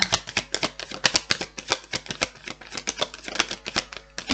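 Tarot cards are shuffled in rapid, crisp bursts of riffling clicks and flicks, close and dry, forming a dense, uneven rhythm with no talking.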